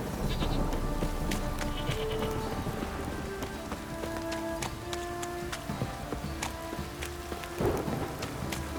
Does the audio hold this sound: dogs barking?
no